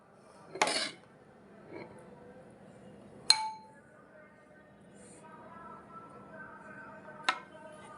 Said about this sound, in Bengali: কাস্টার্ড পাউডার যতটুকু দিবেন ওইটা ভালো করে একটা চামিচ দিয়ে ভালো করে গুলিয়ে নেবেন